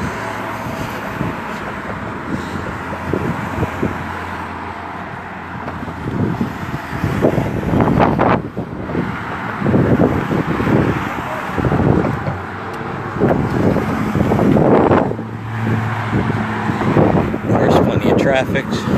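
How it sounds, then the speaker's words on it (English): Road traffic crosses the Belleair Bridge near Clearwater Beach, a steady whooshing roar of passing vehicles mixed with wind buffeting the microphone, while someone talks over it. "Traffic. So we have that noise."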